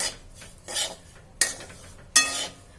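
Semolina (rava) roasts in ghee as it is stirred around a pan, making repeated rasping scrapes in a steady rhythm of about four strokes, close and fairly loud, with no talking.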